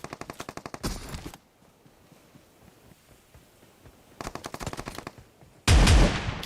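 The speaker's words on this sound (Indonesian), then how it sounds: "Dia nembak lo." Automatic gunfire in PUBG Mobile, rapid bursts of shots from a weapon, a short burst, a long pause, another burst, then a loud close blast at the end.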